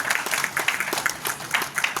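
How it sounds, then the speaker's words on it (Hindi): Brief, moderately faint applause from an audience at the tenth oath-taking ceremony of Agarwal Royals, with scattered claps forming a loose, uneven patter throughout. "तालियां तो भैया थोड़ी सी बजाते रहो।"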